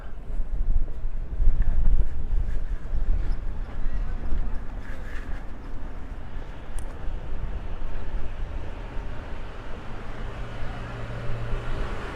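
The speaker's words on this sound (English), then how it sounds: "It's actually quite windy today. I hope that the noise won't bother you guys too much." Wind buffets an outdoor microphone on a street in Outer Nørrebro, Copenhagen, a continuous low rumbling roar that surges and eases, with faint traffic beneath.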